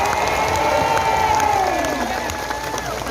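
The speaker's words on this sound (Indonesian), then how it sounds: "Boleh saya minta tepuk tangan yang meriah buat semua yang hadir" Audience at an Indonesian sholawat and Quran-study gathering in Taiwan applauding loudly and steadily, with crowd cheering, a few shouts and a sustained tonal sound running under the clapping.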